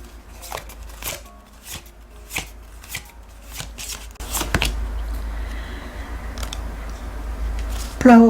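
Oracle cards shuffled by hand during a tarot reading, a close series of crisp flicking riffles and taps, then a softer continuous shuffle, ending in a brief louder knock.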